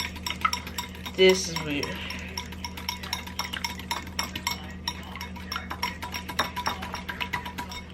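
Metal whisk clinking against a bowl while a boy beats breakfast ingredients at home: a steady run of light, rapid clicks and taps throughout, with a louder clatter near the start and brief talk.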